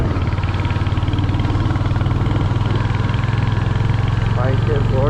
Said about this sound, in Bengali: বাইকের গর্জনটা শোনা যাচ্ছে খুবই সুন্দর।